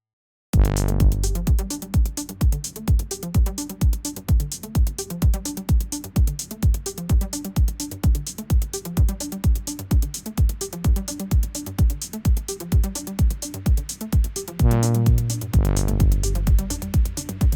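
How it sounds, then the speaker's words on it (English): A dry synthesizer horn tone plays on its own, pulsing in a steady, repeated rhythm of punchy notes with no added reverb or echo. "start with this really cool kind of droney horn sound. I'm just going to play it to you first."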